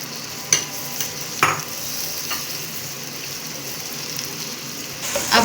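Chopped onion and capsicum fry in a pan for chicken Manchurian, a constant bright sizzle punctuated by several loud spatula knocks and scraping stirs, close and busy.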